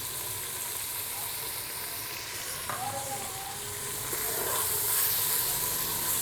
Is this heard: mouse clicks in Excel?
no